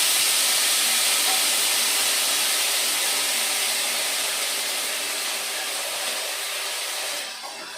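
Potato sticks frying in hot oil in a kadai make a loud, steady, dense hiss that carries on without a break and eases slightly toward the end, with no voices.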